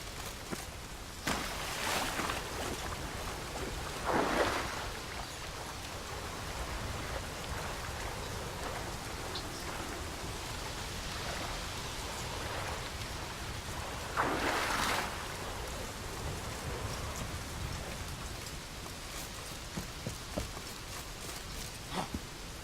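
Steady rain falling in the video game The Witcher 3, a continuous hiss of drops spattering on surfaces with a couple of louder gusty swells, no talking over it.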